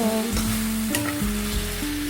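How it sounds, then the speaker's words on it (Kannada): Brinjal (eggplant) stir-fry sizzles steadily in a hot tempering of spiced oil while it is stirred up and down in the pan, a continuous close frying hiss with occasional scrapes and no talking. "ಒಗ್ಗರಣೆಗೆ ಹಾಕ್ಕೊಂಡು ಚಂದಂಗೆ ಕೆಳಗ ಮೇಲೆ ಕೆಳಗ ಮೇಲೆ ಮಾಡಿ"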